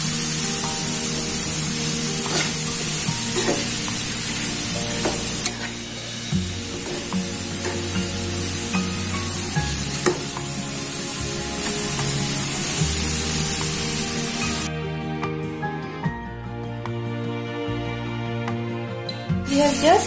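A banana mixture stir-fries in a pan, giving a continuous sizzle overlaid by steady background music, with the frying hiss dropping out briefly near the end while the music carries on.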